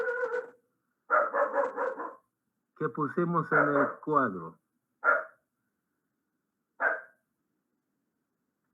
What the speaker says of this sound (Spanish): Mi perrito siempre nos bendice con sus ladridos